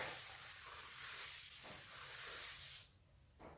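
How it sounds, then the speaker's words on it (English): A continuous loud hiss of brake cleaner sprayed from an aerosol can onto a front brake part of a 2000–2004 Ford F250 Super Duty 4x4, cutting off abruptly, then a short second burst. "I've got a few cans of brake cleaners that have been opened. I'm gonna clean the back off good before we throw it up there."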